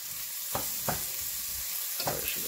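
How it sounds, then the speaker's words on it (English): Onion and garlic fry in a pan, giving a soft steady sizzle broken by a few distinct scraping stir strokes, close and without voices. "just keep stirring until it turns a little brown"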